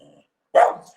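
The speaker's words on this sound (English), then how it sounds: "She stopped barking." A dog gives a single sharp bark, close and moderately loud, after a brief soft low sound and a short pause.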